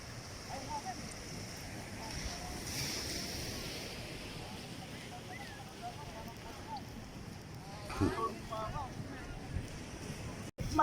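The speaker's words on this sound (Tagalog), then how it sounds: "Sarap ng alon dito sa dagat." Sea waves at Bonuan Tondaling beach, a soft continuous wash of surf with wind buffeting the microphone, faint and distant-sounding, with a louder swell near the end.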